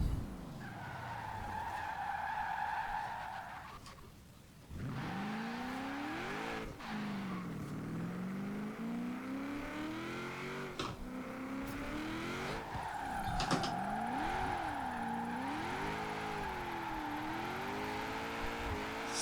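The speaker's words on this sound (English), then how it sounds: "So far, I'm fairly impressed with the handling of this car, especially drifting." Chevrolet Impala SS drifting in the Forza Horizon 4 racing game, with steady engine drone and sweeping tire squeal rising and falling continuously, loud and close, interrupted by a brief dip around five seconds.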